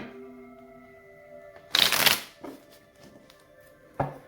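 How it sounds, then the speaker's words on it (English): Two bursts of tarot cards being shuffled, a long riffle and a shorter one, close and crisp with quiet pauses around them. "2 more shuffles."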